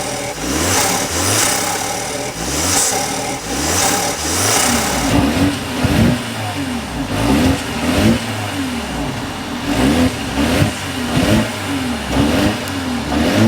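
The turbocharged inline-four engine of a 2025 BMW 530i M Sport revs repeatedly, rising and falling in steady pulses with a gritty mid-range exhaust note. It is loud and continuous, with no talking.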